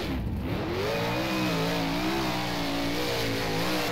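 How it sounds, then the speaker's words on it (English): A 410 sprintcar engine revs and surges in rFactor while the car spins donuts at Premier Speedway, its mid-pitched roar rising and falling steadily and loudly throughout, with no talking. "Let's do some more donuts"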